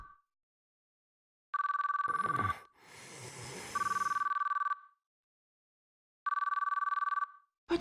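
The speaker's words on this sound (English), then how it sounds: "But the phone didn't stop ringing" A phone ringing in the Chaos;Child video game: three loud electronic trilling bursts with pauses between, a rustling clatter in the gap, and a faint start of another sound at the end.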